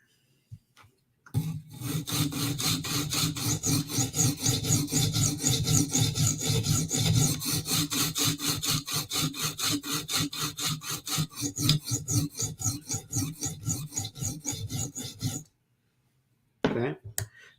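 A blade is sharpened with steady back-and-forth scraping strokes along its bevel, a loud rhythmic rasp running continuously for about fourteen seconds before stopping abruptly.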